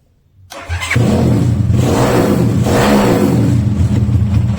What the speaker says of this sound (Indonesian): Nah ini mesin udah nyala ya.